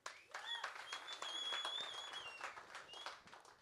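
An audience at a live podcast taping on health-care politics applauds, a scattered, moderately distant patter of clapping swelling and fading, with a few whoops and a faint voice mixed in.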